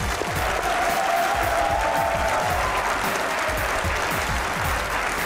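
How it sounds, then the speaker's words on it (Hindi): A studio audience on a Pakistani comedy talk show breaks into loud, sustained applause to welcome a model and actress guest, steady clapping filling the whole stretch with a faint murmur of crowd beneath. "भरपूर तालियों में हम खुशामदीद कहेंगे आज की मेरी गेस्ट"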